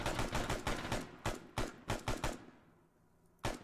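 Gunfire in the video game Arma 3 rings out as a rapid series of sharp, fairly faint shots in bursts, then a pause and one final shot.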